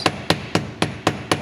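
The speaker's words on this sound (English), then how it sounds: "we want to flip it over and hammer it a little all the way around" Hammer tapping metal wire on a jeweler's bench to even out its texture, six sharp, evenly spaced ringing blows in quick succession, close and clear with no talk.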